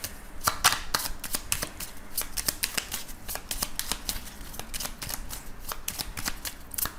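Lenormand cards shuffled for a reading, a steady run of crisp, close riffling snaps and flicks at a quiet level with no talk.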